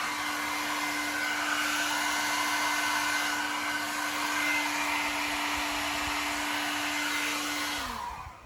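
A blow dryer roars steadily at close range for about eight seconds over a paint pour on canvas, then winds down as it switches off.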